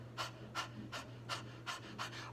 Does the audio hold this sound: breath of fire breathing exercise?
yes